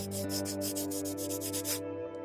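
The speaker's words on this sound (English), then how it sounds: "And yeah, we have this, and of course our trusty sanding stick." Sanding stick rubbed back and forth on a scratch-built model for an industrial city base, a run of rapid, evenly paced rasping strokes that stop near the end, heard close up over a steady low hum.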